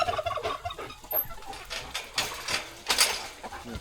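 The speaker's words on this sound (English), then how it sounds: "There's your lavender hens." Lavender hens cluck and gobble close by in bursts of irregular calls, with some scuffling noises in between.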